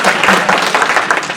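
Audience applause at a storytelling-for-advocacy workshop, a steady dense patter of many hands clapping for about a second and a half with no talk over it.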